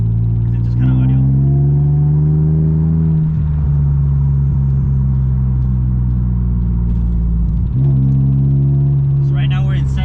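Exhaust of a third-generation Mitsubishi Eclipse pulling hard in second gear while building speed toward a freeway, a loud steady drone rising in pitch, easing briefly around a shift, then climbing again with faint voices in the cabin.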